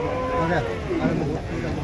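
A low mooing call from a buffalo rises over a busy, noisy crowd at the Chattiparamba cattle market, with voices chattering close by throughout.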